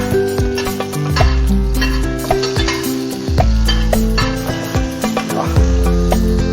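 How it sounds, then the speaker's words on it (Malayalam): Ingredients sauté in a pan just after mustard seeds have popped, a loud close sizzle broken by repeated rhythmic scrapes and knocks of a spatula stirring against the pan, with no talking. "ഇതെല്ലാം ഇട്ട് ഒന്ന് വഴറ്റാം"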